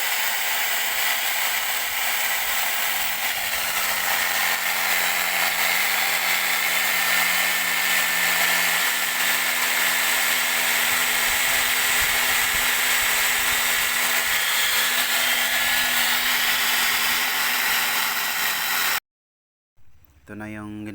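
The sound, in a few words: power drill grinding scooter CVT part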